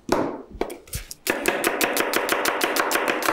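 A knife finely chops an onion on a cutting board, rapid even taps following a few slower opening cuts, close and crisp, with no talking.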